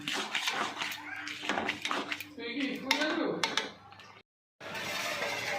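Fried semolina, cashews, cloves and bay leaves stirred into a pot for bottle gourd payesh, with close metallic scraping and clinking of a spoon against the pot, a background voice underneath, and a brief silent pause near the end.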